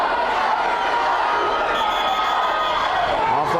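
Cheerleaders cheering at a high school varsity wrestling match, a steady wash of crowd noise and voices in a gym with a commentator talking over it.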